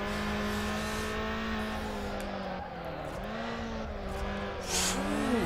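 Race car in Need for Speed Underground, engine droning at steady high revs with pitch dips as gears shift, tires squealing briefly near the end, loud and continuous.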